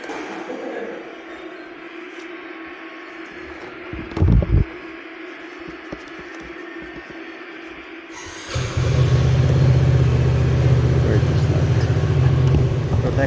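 Motorcycle ride on an early-morning trip, steady engine hum and rushing wind buffeting throughout, growing much louder and denser in the second half with a brief thump partway through.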